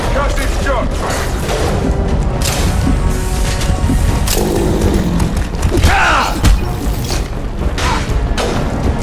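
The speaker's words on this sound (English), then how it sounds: "Firing concussive shot." A concussive shot fires in Mass Effect 2, a loud booming impact amid a steady din of combat, with thumps and mechanical clatter, while people talk over the action.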